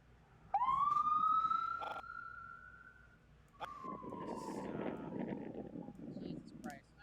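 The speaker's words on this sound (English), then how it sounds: "Now there's a friggin' ambulance." An ambulance siren wails outside, a strong rising-and-falling tone that fades after a few seconds, followed by a rougher, lower siren sweep and traffic noise in the distance.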